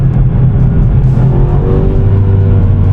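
BMW M5 Touring accelerating hard in second gear from inside the cabin, a loud, deep engine roar rising steadily in pitch under full throttle with no talk.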